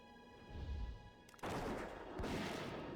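Gunshots from a hunter's ranged weapon in World of Warcraft Classic Era, a loud dense burst of cracks with game effects and ambience behind, swelling sharply halfway through and holding steady.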